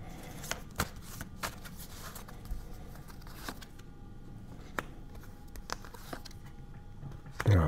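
Tarot cards being shuffled by hand, soft repeated riffling and card flicks at close range, faint and sporadic, with a louder handling sound at the very end.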